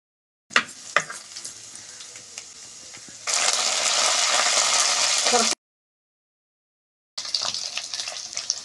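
Mustard seeds and finely chopped ginger hit hot oil in a pan, first crackling and popping, then a loud, steady sizzle that cuts off briefly and resumes more softly.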